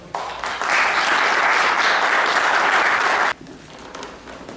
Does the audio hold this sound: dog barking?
no